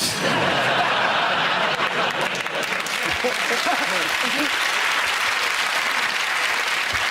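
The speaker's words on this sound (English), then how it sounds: "He ironically gets a round of applause for that." Sustained applause from a large TV comedy panel show studio audience, steady and dense throughout, with some scattered laughter mixed in.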